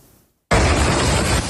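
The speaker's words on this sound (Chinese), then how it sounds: "加萨最大的西法医院附近不断传出爆炸声" An explosion near al-Shifa hospital in Gaza breaks a near silence with a sudden loud burst, then a sustained roaring wash of noise that fills the rest of the moment.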